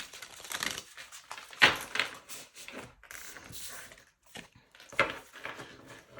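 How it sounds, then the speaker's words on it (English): Tarot cards riffle and slap together in quick irregular bursts, crisp clattering and flicking up close, repeated several times with short pauses between. "I have no issues, you know, in shuffling this deck."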